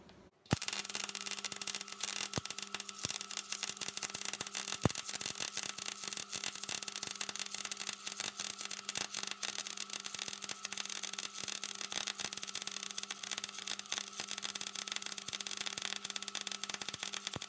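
A welder runs a full continuous pass on a steel toe bracket for a BMW E46, giving a steady, close crackle and sizzle with scattered sharp pops. It lasts throughout with no talking.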